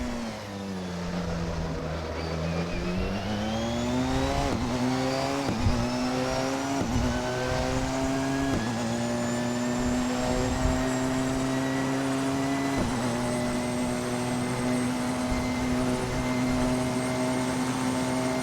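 A Porsche 919 Hybrid race car drives hard around a circuit, its engine note climbing through a series of rapid gear shifts, each shift a brief dip before the whine rises again, loud and close, with no talking.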